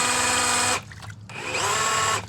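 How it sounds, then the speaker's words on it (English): A handheld power drill spins a boat outboard motor's drive shaft to test the water impeller, whining loudly at a steady pitch, pausing briefly, then revving up again before cutting off near the end. "just take a drill and we're gonna fasten that drill at the top of our drive shaft here"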